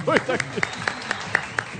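Studio audience on a Pakistan vs India cricket special transmission gives a short burst of sparse, rhythmic claps right after a brief voice, each clap sharp and evenly spaced.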